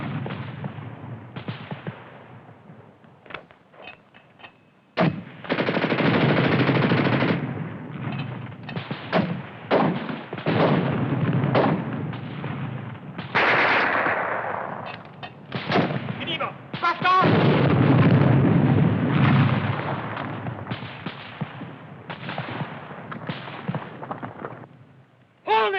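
A WWII war film battle with Japanese American soldiers: heavy artillery blasts, explosions and rolling gunfire, loud and dense in long bursts with short pauses, while voices shout through the din.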